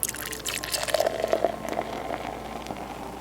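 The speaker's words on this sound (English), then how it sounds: "And I put in 1/2 cup of water." Half a cup of water pours into a blender jar for a smoothie, a close, continuous liquid trickle with bubbly splashing that runs throughout.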